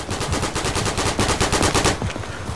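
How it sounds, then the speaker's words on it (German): Rapid automatic machine gun fire in the World War II shooter game Day of Infamy, a loud continuous burst of evenly spaced shots lasting about two seconds before cutting off. "I hear friendly gunfire."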